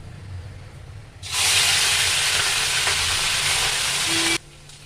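Loud, steady sizzling of crushed green chilli and ginger dropped into hot oil with whole garam masala, starting abruptly and holding at full strength for about three seconds before cutting off.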